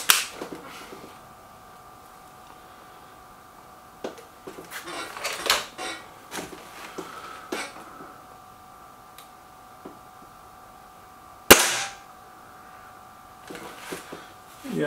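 Air rifle shots from a Kral Devil and a Gamo Whisper Sting, a few sharp isolated cracks spread out with quiet gaps, one especially loud crisp report near the end, alongside a steady mechanical hum.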